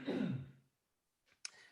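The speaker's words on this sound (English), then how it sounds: "I needed to clear my throat" One rough throat clearing, close and fairly loud, then a pause of silence and a couple of small soft clicks.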